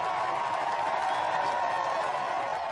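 A large outdoor crowd on Downing Street roaring and screaming as Tony and Cherie Blair process past, a dense, continuous wall of cheering voices.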